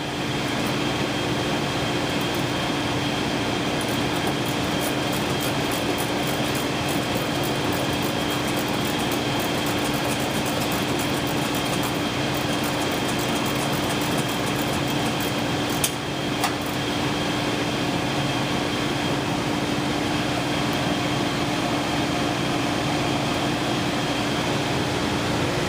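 An HVAC system hums steadily while refrigerant is pumped down, a constant mechanical drone with a faint tonal whine and no talk over it.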